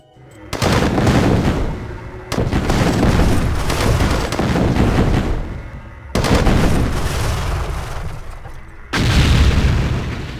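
Buildings explode in Command & Conquer: Tiberian Sun, a series of four loud booming blasts, each one sudden and then rumbling down before the next one breaks out.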